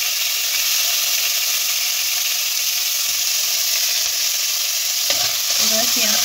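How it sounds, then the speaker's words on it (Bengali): Chopped onion and curry leaves fry in a pan with a loud, continuous close-up sizzle, an even hiss with a little stirring near the end and no talking. "এবার পেঁয়াজটাকে একটু ভেজে নেব"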